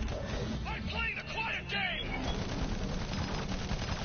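Rapid gunfire from the shooter video game Battleborn, a dense, steady barrage of shots under a game character's voice and player chatter.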